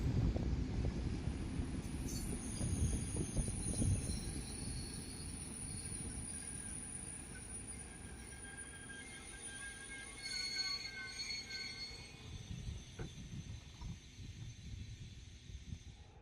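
The Lovćen night train rolls slowly into a station, with a low rumble of railcars, hissing brakes and a long high wheel squeal, steady and close at first, then easing off as it comes to a stop.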